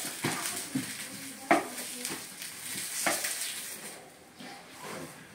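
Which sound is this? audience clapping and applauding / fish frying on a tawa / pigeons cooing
fish frying on a tawa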